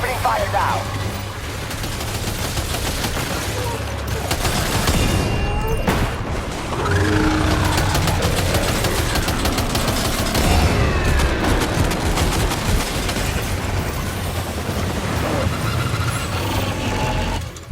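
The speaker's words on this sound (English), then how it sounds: "Opening fire now." Gunfire in the Death Stranding 2 video game during a fight with a giant ghost mech, rapid bursts of shots and booming impacts over a dense, loud battle din that runs throughout.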